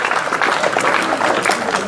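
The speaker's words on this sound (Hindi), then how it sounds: "एक बार जोरदार तालियां मुस्कान के लिए" At a school ceremony honouring top-scoring students, a hall full of people claps loudly and continuously, a dense unbroken patter of many hands.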